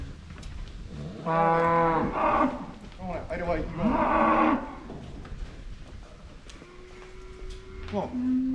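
Cattle at a farm's new handling facilities moo loudly at close range, with two long drawn-out bellows followed by shorter calls, while a person talks in between.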